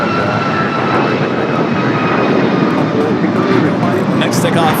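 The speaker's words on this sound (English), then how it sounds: "Next takeoff is Sun Country Flight 8501 heading to Kona, 737-800 in that hybrid Sun Country livery" Boeing 737-800 jet airliner in Sun Country livery taking off at Los Angeles International Airport, a steady loud engine roar held throughout, with talk over it.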